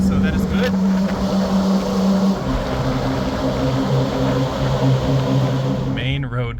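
A tracked Smart car cruising on a road at roughly 30 miles an hour, its extremely loud, steady mechanical roar and droning hum continuous throughout, with a voice talking over it.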